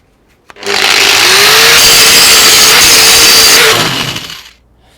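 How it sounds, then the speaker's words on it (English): An angle grinder grinds weld beads off a Damascus steel billet: a loud, continuous high-pitched whine that spins up, holds steady for about three seconds, then winds down, with no talk. "Now we'll just grind these off just to tidy them up"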